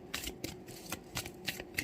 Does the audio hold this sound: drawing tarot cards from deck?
yes